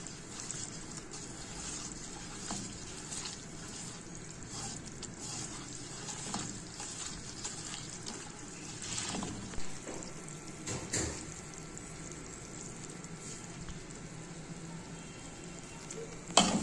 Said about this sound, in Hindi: अब इसको 5 मिनट हो गए हमें फ्राई करते हुए